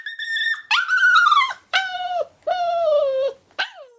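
A puppy in its crate whines in a few long, high, wavering cries separated by short pauses, close by and otherwise quiet.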